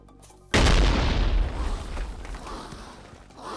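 A Minecraft creeper explodes in a sudden loud boom that rolls off into a long, fading rumble with no voices over it.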